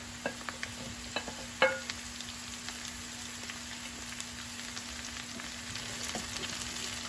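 Leeks frying in a pan for a home-style dish, a soft steady sizzle with a few light scrapes and taps of stirring near the start, quiet and close, no voices.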